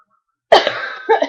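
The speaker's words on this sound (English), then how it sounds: "Still got that cough." A single close, sharp cough from a person on a webcam, bursting out after silence and followed by a second, softer cough-like burst about half a second later.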